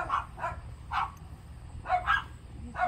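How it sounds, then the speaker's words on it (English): Several dogs barking at a distance near a horse pasture, with short bursts of barks spaced out over a steady low rumble of background noise. "And all the doggies over there are barking."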